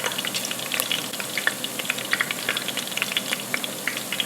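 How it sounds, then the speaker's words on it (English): Battered onion rings deep fry in a pot of oil, giving a dense, steady bubbling crackle full of sharp pops, close and continuous without talk. "So this next batch that I put in, let's see what happens."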